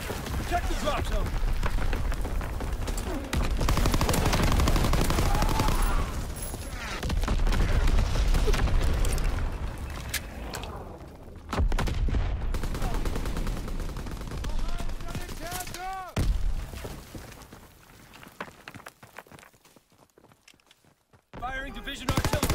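Artillery battery firing in the World War II shooter Call of Duty WW2: dense, sustained gunfire and booming blasts rolling together, loud and busy. Sharp reports and clatter follow as the barrage thins out near the end.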